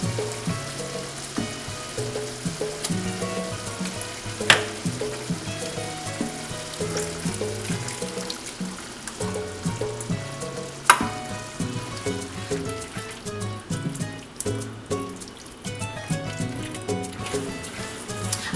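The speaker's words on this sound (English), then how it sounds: "I'm slowly working the ground beef with my spoon, working out any type of clumps that may happen." Ground beef frying for picadillo, a continuous close sizzle with scraping and occasional knocks as a spoon works through the meat to break up clumps.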